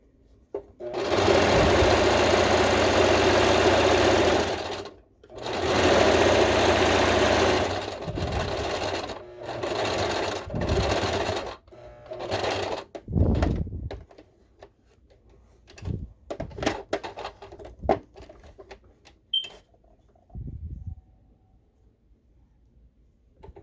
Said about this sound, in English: Still, we're just doing a basic straight stitch, nothing fancy.